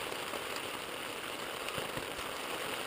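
Rain falls steadily during a backpacking trip in the Holy Cross Wilderness near Lyle Lake, a dense, even hiss with scattered soft drop taps close by.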